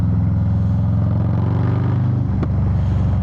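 A 2022 Harley-Davidson Low Rider S engine revs loud and close, a steady harmonic rumble that drops off and pops near the end as the throttle is released.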